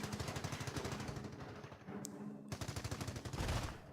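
Rapid machine-gun bursts from MG crews in the World War II strategy game Company of Heroes, loud repeated rattling volleys with a brief gap midway, then firing resumes densely.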